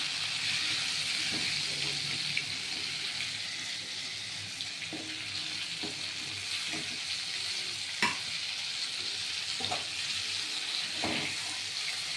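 Bottle gourd koftas frying in oil in a wok, a steady close sizzle with soft intermittent taps and scrapes of a utensil against the pan, no voices.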